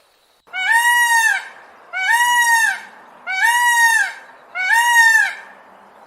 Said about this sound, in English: peacock